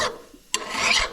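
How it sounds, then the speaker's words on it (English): A hand file rasps across hardened weld spatter stuck to the jaw teeth of a Reed No. 103 bench vise, short scraping strokes with a brief gap, close and moderately loud. "So I'll use the file, and I'll see if I can't file that down."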